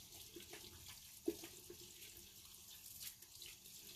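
Water runs steadily from a tap into a sink while makeup is washed off hands, a soft continuous hiss with one brief splash or knock partway through.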